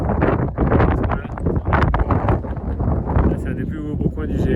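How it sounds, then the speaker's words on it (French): Strong wind gusting across a high mountain trail above the Melo and Capitello lakes on the GR 20 in Corsica, a loud continuous roar buffeting the microphone, with someone talking over it. "Il y a du vent."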